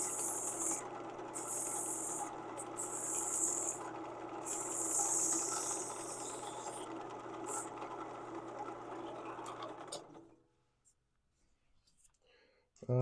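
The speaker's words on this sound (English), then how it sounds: "Sanding time." Sandpaper rubs steadily against a spinning wood-turned piece on a lathe, a continuous close whirring rasp that stops abruptly near the end, followed by near silence.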